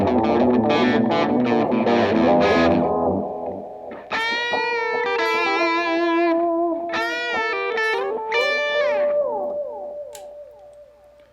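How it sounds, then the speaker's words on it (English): Tube echo delay effect modeled on the Maestro Echoplex EP1, running in Helix Native, applied to a guitar: played chords and notes trail off into repeating, fading echoes that ring on after the playing stops. "Tube echo."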